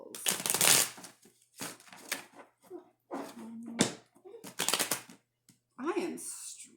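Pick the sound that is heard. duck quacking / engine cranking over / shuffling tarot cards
shuffling tarot cards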